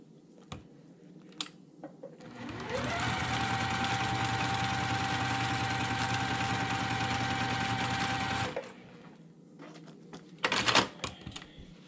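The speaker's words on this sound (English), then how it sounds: "just keep doing some more sewing" A sewing machine stitches quilt block pieces together, starting with a quick ramp-up and running steadily for about six seconds before stopping, followed by a few faint handling clicks.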